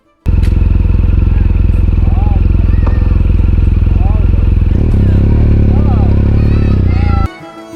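A motorbike ridden along the Conor Pass road near Dingle on the Wild Atlantic Way, with a loud, steady engine drone and rumble close up that shifts pitch partway through and cuts off near the end, with faint wind noise.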